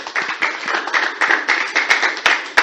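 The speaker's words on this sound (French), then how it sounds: "on applaudit pour lui" Audience applause at an international conference on women's rights, a steady patter of clapping hands over the whole short stretch.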